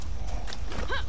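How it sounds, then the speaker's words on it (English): A horse in the Far Cry 6 video game, summoned by a call, gives a short rising whinny near the end, with faint hoof clip-clop and steady game ambience underneath. "Okay, that's used to call the horse."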